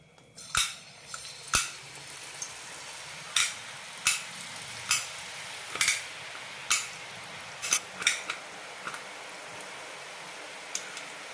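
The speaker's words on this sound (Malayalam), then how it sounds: "എണ്ണ ചൂടായിട്ടുണ്ട് ഇതിലേക്ക് പിഴിയാം" Ragi murukku dough squeezed into hot oil fries with a soft continuous sizzle, punctuated by a dozen or so sharp, evenly spaced crackles and pops, close and alone without speech.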